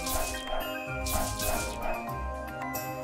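A wolf enemy dies in the video game Touhou Scarlet Curiosity, giving a few short yelping dog-like cries over game music and impact effects.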